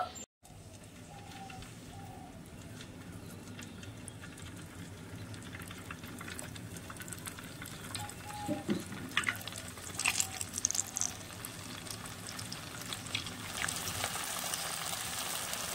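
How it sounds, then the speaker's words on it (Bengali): Small semolina sweets frying a few at a time in hot oil, a steady hissing bubble that holds throughout and swells a little midway, close up with no talking. "আমি এখানে অল্প অল্প করে দিয়ে মিষ্টিগুলো ভেজে নেব।"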